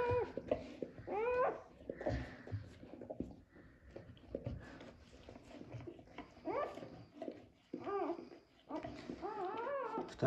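A dog that has just given birth to puppies whimpers and yips in high wavering cries, close by, in repeated bursts with faint rustling and soft sounds between them.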